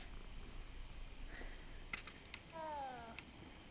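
A cat in Hogwarts Legacy purrs softly under a low ambient game background, with a few brief clicks and a short rising chirp-like call near the end.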